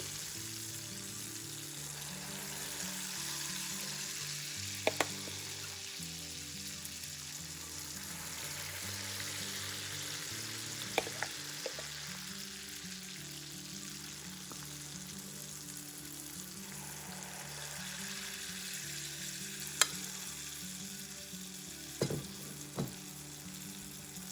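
Wheat flour sweets fry in hot oil with a constant bubbling sizzle that runs throughout, broken by a few sharp clinks and taps, heard alone with no talk.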